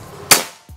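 A single sharp, close shot from a PCP air rifle: a sudden crack that decays quickly in an otherwise quiet setting.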